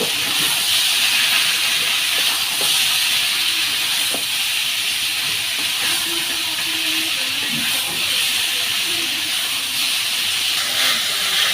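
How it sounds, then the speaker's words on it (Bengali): Leafy greens go into hot oil with fried onion and green chili, giving a steady, moderate sizzling hiss that continues evenly throughout, with no talking. "এখন শাকগুলো দিয়ে দিই।"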